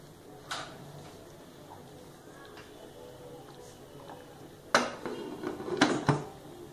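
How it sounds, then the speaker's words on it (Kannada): A pressure cooker lid is closed over vegetable pulao, with a sharp metal clank early on, then a quiet pause before several louder clattering knocks and scrapes near the end. "ಇವಾಗ ನಾನು ಲಿಡ್ ಕ್ಲೋಸ್ ಮಾಡ್ತಾ ಇದ್ದೀನಿ."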